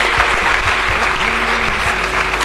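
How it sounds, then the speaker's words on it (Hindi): Loud, dense audience applause fills a hall at an award ceremony honouring a hockey figure, steady and sustained throughout with a faint voice briefly audible underneath. "इसके लिए भी जोरदार तालियां होनी चाहिए."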